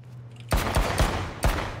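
Gunfire in the online survival shooter H1Z1: after a quiet start, four sharp loud shots crack out in quick succession, each with a short ringing tail.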